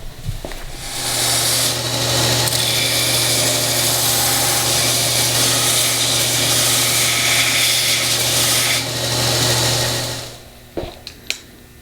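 A power grinder whirs steadily against a steel clipping hammer head with a rough, gritty abrasive hiss, running for several seconds before spinning down, followed by a few light clinks.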